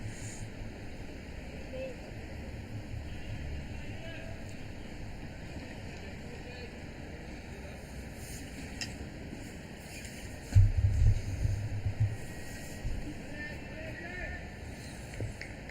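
Steady low wind rumble buffets the microphone at an outdoor cricket ground during a two-day Hong Kong club match, with a heavier gust near the end; faint background voices are heard.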